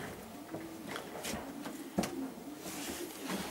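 Pigeons in a breeding loft box of a dozen or so dark birds coo softly and intermittently, with faint rustling and a single light knock in a quiet room.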